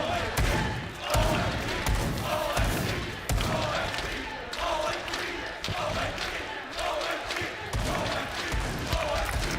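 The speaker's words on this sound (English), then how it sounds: "The crowd, once again, a lot louder than that first map here." A large arena crowd at a Six Invitational 2023 playoff match of the esports game Rainbow Six Siege roars and cheers loudly and steadily, with heavy thumping surges throughout.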